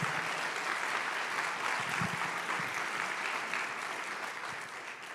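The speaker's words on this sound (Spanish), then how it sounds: "Si le va a dar un aplauso al Señor, déselo con toda." A church congregation claps for the Lord during a sermon, a steady, moderately distant wash of applause that fades a little toward the end.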